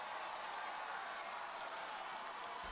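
A raucous wrestling arena crowd in Charlotte roars and cheers in a dense, steady wash of noise with scattered claps, loud and unbroken throughout.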